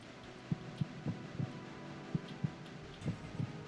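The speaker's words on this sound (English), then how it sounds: "So we hear his heartbeat." A character's heartbeat in the stealth video game Metal Gear Solid 2 thumps in soft paired beats at a steady rhythm over a low hum, quiet and close.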